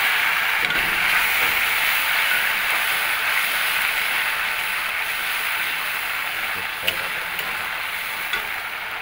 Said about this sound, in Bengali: এখন দিয়ে দেবো সর্ষা বাটা, ঠিক আছে? সর্ষা বাটা দিয়ে দেবো।